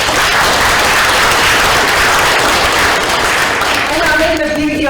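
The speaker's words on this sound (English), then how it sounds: "Can we give them a round of applause?" An audience applauds the executive team at an inauguration ceremony, a dense, steady wash of clapping that fills the whole stretch, with a few sustained tones joining near the end.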